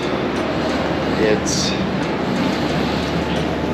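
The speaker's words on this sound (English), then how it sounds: "Just arrived in Saigon train station" A train pulls into Saigon train station, heard from inside the carriage as a steady, loud rolling rumble with a few faint squeals, while a voice speaks briefly.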